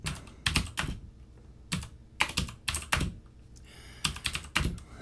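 Computer keyboard keys tapped in short, uneven bursts of quick clicks with brief pauses between, close and fairly quiet, with no talking.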